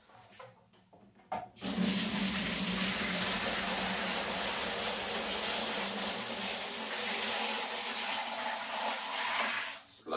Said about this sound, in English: I just need to pour it through.